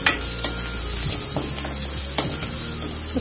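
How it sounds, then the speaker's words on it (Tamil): Onions sizzle in a hot pan with a steady crackle, broken by a few sharp scrapes of a spoon stirring them. "வெங்காயம் நல்லா வதங்கிட்டு இருக்கு."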